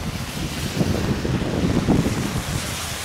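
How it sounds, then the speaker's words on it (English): Gusts of wind buffet a microphone during a walk through heavy rain in North End, a rough low rumble that swells and eases. "I got a bit of wind right here again"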